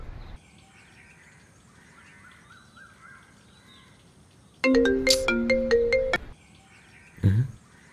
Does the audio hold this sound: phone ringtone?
yes